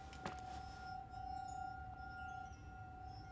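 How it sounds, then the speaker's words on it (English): Glass clinks faintly in a video game, a light chink early on over a quiet ambient background with steady tonal hums. "Like a clinking."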